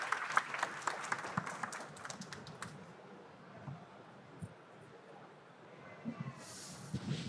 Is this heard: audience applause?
yes